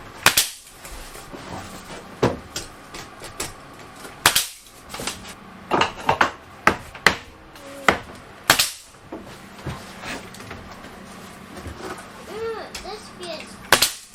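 A nail gun fires into homemade tongue and groove wood boards in a bathroom, sharp loud cracks repeating at irregular intervals with quieter knocks and handling noise between them and some talking in the background.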